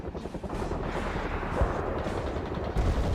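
Dense, rumbling gunfire from the real-time strategy game World in Conflict during a Soviet assault mission: sustained bursts of shots and heavy explosions overlap steadily, with a louder impact near the end and no talk.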